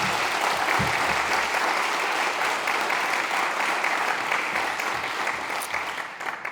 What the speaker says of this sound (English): I know they are truly grateful for that applause